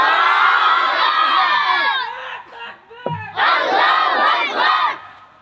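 A large crowd at an Islamic religious gathering roars a takbir, loud massed shouting that breaks off briefly with a sharp thump before the chorus swells back up and fades.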